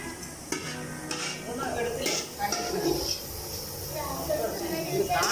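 Chicken fried rice being stirred in a pan at home, the spatula scraping and clinking against the metal in irregular strokes over a faint sizzle, close by, with a voice speaking over it.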